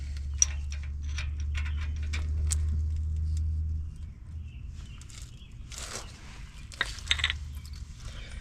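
Ball joint nut being tightened and loosened with a ratchet on a Ford F250 front end, a series of sharp metallic clicks and ticks up close over a low steady hum.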